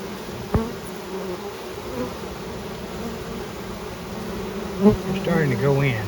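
Honeybees swarm around a hive box during colony installation, a dense steady buzz of many insects close by, with a few louder thumps and brief handling noises.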